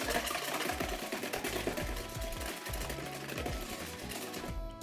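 A hand whisk beats eggs in a bowl, making a fast, steady, rhythmic clatter up close that runs without a break and with no talking.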